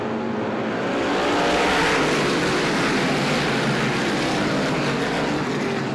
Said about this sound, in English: Back to green and thundering back to the line.